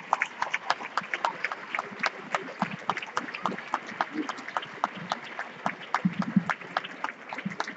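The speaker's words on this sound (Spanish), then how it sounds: "Fuerte aplauso también, José Cano." Loud applause at an outdoor tribute ceremony honouring a long-serving member of a municipal music band, dense clapping throughout with no talk over it.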